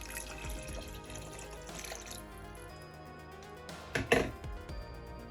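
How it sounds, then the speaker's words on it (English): Water poured into a pan of gravy on the stove, a steady trickle and faint splashing with a louder burst of sloshing near the end, close up and without speech. "I'm gonna add some more water to it."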